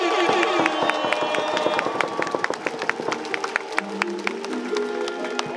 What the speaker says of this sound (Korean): 다시 한번 우리 나성범 선수 그리고 우리 선수단에게 큰 박수 부탁드리겠습니다.